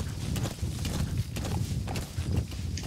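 Horse hooves clip-clop steadily in the video game Metal Gear Solid 5 The Phantom Pain in Afghanistan, a fast continuous rhythm of muffled thuds held at an even level.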